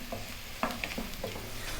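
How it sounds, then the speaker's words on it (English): Mushrooms cooking down gently with onions and garlic in a pan while being stirred, giving a soft, steady sizzle with occasional scraping and clacking from the utensil, close by and heard alone without talk. "Let's cook those mushrooms down with the onions and the garlic."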